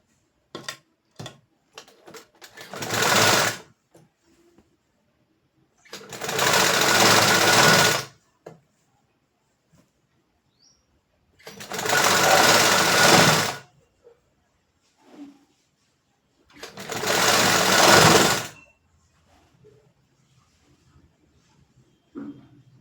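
Sewing machine stitching a half-inch hem on a sleeve cuff: four steady whirring runs of about two to three seconds each, close and loud, separated by quiet pauses with small clicks of fabric handling.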